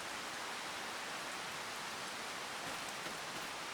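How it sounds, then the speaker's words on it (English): Steady rain falls in Farming Simulator 25 during harvest, a continuous even hiss of drops on surfaces, soft and unbroken throughout with no voices. "Harvesting during the rain sucks."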